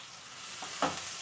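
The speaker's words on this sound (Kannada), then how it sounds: "ಇವಾಗ ಹುರ್ಕೋತೀನಿ." Eggplant frying in oil for badanekayi bharta, a close, steady sizzle broken by two quick stirring scrapes near the end.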